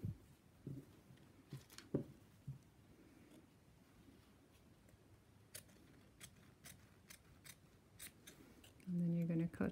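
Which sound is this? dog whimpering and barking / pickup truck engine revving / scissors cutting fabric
scissors cutting fabric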